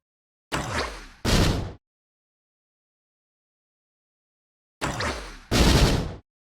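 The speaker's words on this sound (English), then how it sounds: "hearing all those extra explosion sounds" Two pairs of punchy bomb explosions from the Ancient Scepter in the video game Risk of Rain, each a quick double boom, separated by several seconds of silence.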